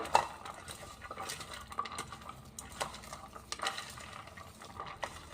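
Onions frying in a pan with a faint sizzle while a utensil scrapes and clinks against the metal in irregular strokes; close, fairly quiet, no talking.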